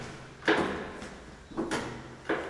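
A door in a flat being opened, with a few short clunks and handle or latch knocks spaced across the moment, near and fairly loud against a quiet room.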